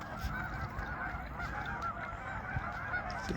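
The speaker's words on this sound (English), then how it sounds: "I got a lot of geese and swans out here this year." Geese honking on Otter Tail Lake, a distant, faint chorus of overlapping calls over a steady outdoor hum, with no talking.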